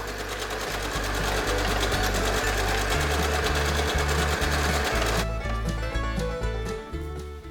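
A sewing machine runs continuously, sewing garment shoulder seams and basting delicate lace. Its rapid, even needle rhythm is close and loud throughout, shifting slightly in pace partway through, with no talking.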